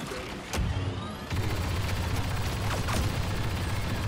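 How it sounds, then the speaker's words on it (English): Covering fire in Star Wars Battlefront 2 against Imperial defenses, with sharp blaster shots at irregular intervals over a constant dense battle rumble, loud and close. "Covering fire now!"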